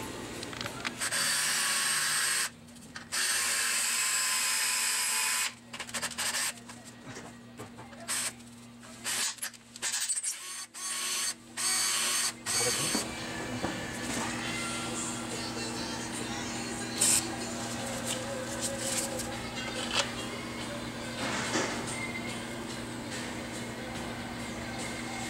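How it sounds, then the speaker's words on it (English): A quarter inch drill bores out a bolt, with bursts of motor whine broken by short pauses early on, then a steadier run of grinding and cutting later, close and fairly loud. "So that's a quarter inch drill."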